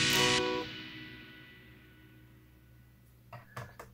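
A bright guitar strum through a Digitech RP80 effects pedal's arena reverb decays into a huge, lingering reverb wash that trails off for several seconds, with a few faint taps near the end.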